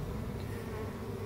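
A dense, steady buzz of many bees swarming close around a small hive tucked under a house, continuous and loud with no breaks.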